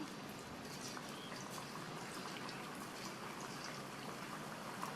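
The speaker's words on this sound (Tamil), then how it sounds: "கடாயில் எண்ணெய் விட்டு சூடாயிடுச்சு. நம்ம பரட்டி வச்ச பாவக்காவை இந்த மாதிரி எடுத்து மொத்தமாக போடாமல் இந்த மாதிரி தள்ளி இப்படியே போட்டுடலாம்." Bitter gourd slices frying in hot oil in a kadai, a steady faint sizzle and crackle that holds evenly throughout with no talk.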